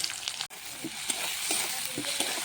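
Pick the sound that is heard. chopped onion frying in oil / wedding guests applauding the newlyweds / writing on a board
chopped onion frying in oil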